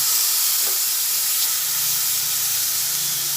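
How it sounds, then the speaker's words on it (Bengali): Ginger paste fries in a pan as part of a chicken ghugni, giving a steady, fairly loud hiss and sizzle that runs the whole time with no voices over it. "হাফ চামচ আদা বাটা দিয়ে দিলাম এরপর এটা ভালোভাবে ভেজে নিচ্ছি"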